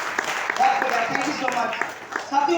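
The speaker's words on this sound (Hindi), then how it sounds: "चलो इन सारे लोगों के लिए मैं चाहूंगा जबरदस्त हाथ ताली" Clapping from the audience at a Safe Shop business training session in Burdwan, heard as scattered, moderately loud claps mixed under someone speaking into a microphone.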